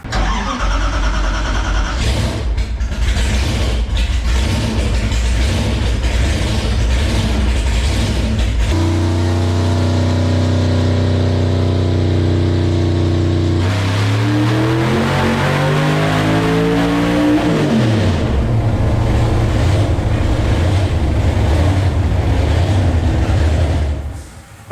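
A 1000 hp boosted Hemi V8 running on E85 in a garage, loud and close, idling roughly before a long rising rev that climbs and then drops back to a steady rumble, with no talk over it.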